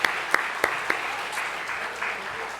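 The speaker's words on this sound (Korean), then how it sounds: "박수" Audience applause in a church gathering as a young person is honoured with a flower: a few sharp claps open, then a steady wash of many hands clapping at moderate distance, fairly soft.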